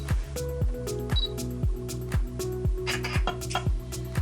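Odyssey desktop text-to-speech reader firing its camera shutter after the top middle button is pressed on a document lying on a table, a run of sharp mechanical clicks with short ringing tails, close and fairly quiet.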